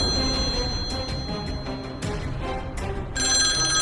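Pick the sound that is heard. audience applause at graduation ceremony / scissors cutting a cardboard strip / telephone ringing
telephone ringing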